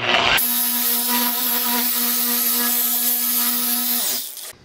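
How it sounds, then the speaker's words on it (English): A car polisher works the paint of a bagged Honda Prelude at slow speed, a close, steady motor whine with a strong hum that starts abruptly and winds down at the end. "when you're polishing, like I said, just take your time with it"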